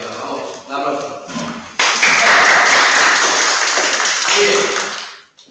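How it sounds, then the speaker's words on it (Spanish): Audience applause for a volunteer during a lecture introducing CFD; talk comes first, then a loud, dense burst of clapping fills the room for about three seconds before fading out. "Venga, vamos. Un aplauso."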